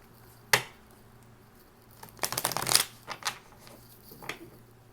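A tarot card deck being shuffled, one sharp tap followed by a fast riffling burst and a few lighter shuffles and taps, close and fairly quiet.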